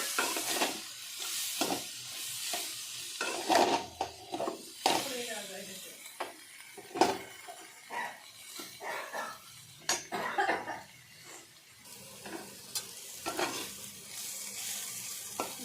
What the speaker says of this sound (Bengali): নাড়াচাড়া করে নিচ্ছি উল্টে পাল্টে।